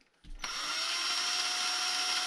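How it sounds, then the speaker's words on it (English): An electric drill spins a part clamped in its chuck for a custom motor mount: a short click, then a steady high-pitched motor whine with a constant tone, close and loud, running alone without talk. "clamp it down in my drill chuck here. Something like that. Run it, make sure it's spinning true."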